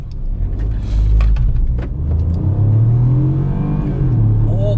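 A 2020 Proton X50 1.5 TGDi accelerates hard on the Sepang track during an acceleration test, its engine revving loudly and rising in pitch through the gears, close and sustained.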